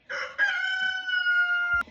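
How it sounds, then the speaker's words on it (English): A single rooster crows loudly and close up, one long drawn-out cock-a-doodle-doo ending in a short thump. "Sorry, my rooster keeps interrupting me"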